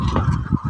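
A brief, loud burst of clucking and squawking from laying hens, old and newly shifted birds together in a poultry farm shed, close by.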